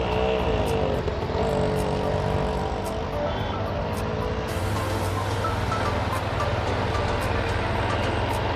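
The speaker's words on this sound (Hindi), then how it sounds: "थोड़ा सा ट्रैफिक है" Steady road traffic rumble heard from inside a moving vehicle on a drive to a temple in Arnej, a continuous mix of engine and tyre noise at a fairly constant level with no talking.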